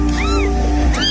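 Kittens meow in a few rising and falling cries, close and clear, over a steady hum, with low murmuring in the background.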